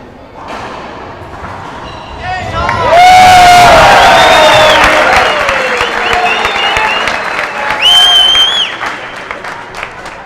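A crowd at the 2014 Pan Am Racquetball Championships men's doubles semifinal, Mexico versus Bolivia, bursts into loud applause, cheering and whoops that swell and stay strong with a second surge, while a commentator talks.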